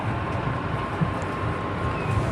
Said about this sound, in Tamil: ட்ரெயின் மூவ் ஆயிடுச்சு.